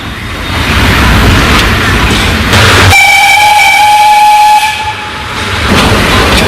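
A special mountain railway train sounds a loud, sustained steam whistle for about two seconds, cutting through steady hissing steam and rumbling rail noise, which continues after the whistle stops.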